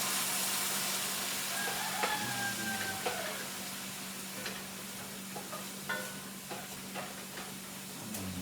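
Food sizzles steadily in a frying pan in a country home kitchen while a utensil stirs it, giving scattered scraping clicks and taps over a constant hiss and low hum.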